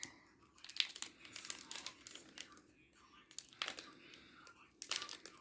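Plastic wrapper of a Pokémon booster pack being handled and torn open, with repeated bursts of crinkling and ripping close by, separated by quieter pauses, while people talk softly in the background.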